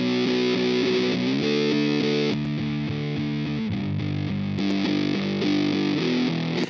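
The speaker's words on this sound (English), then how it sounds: "Now the fuzz sounds like this." A fuzz-distorted electric guitar with the low end rolled off plays sustained chords, loud and continuous with a thick buzzy tone and no talking.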